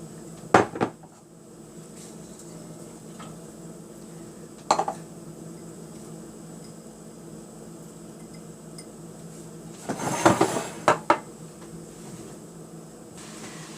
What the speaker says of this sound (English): so now I'm just going to add my veggies in here